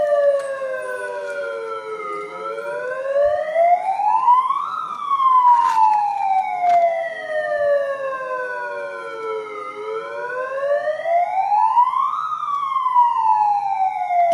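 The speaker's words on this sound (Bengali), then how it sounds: "কী কারণে এই সাইরেন বাজছে" A wailing emergency vehicle siren sounds at night, rising and falling in slow sweeps, loud and steady, with no talk over it.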